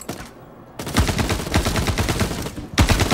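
Rapid-fire repeater cannons in a video game hammer out a fast, loud stream of explosive shots, starting after a short pause, running nearly three seconds, then briefly breaking before a final burst.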